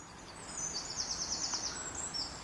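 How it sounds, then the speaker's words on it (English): A bird high in woodland trees near a park gives a quick trilling, rapidly repeated call against steady outdoor hiss, faint and somewhat distant, with no one talking. "And the birds are singing."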